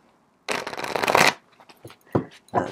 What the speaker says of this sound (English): I'm shuffling softly.